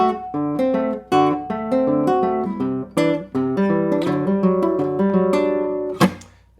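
An acoustic guitar plays a fingerstyle piece from a musical, picked notes and chords ringing in a gentle flowing pattern, close and clear, with a final strummed accent near the end and no voices.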